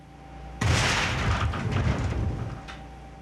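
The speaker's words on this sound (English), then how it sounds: "This tank has been deliberately weakened to demonstrate how quickly and without warning a tank can fail." A deliberately weakened liquefied gas tank failing in a BLEVE explosion, a sudden loud boom that breaks into a roaring, crackling rush and slowly fades over a few seconds, with no talking.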